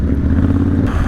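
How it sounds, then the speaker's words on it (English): Triumph Bonneville motorcycle exhaust burbling low and loud up close during an off-road ride on wet grass at a motorcycle festival, a brief throaty pulse that cuts off sharply near the end. "that exhaust sound is so nice"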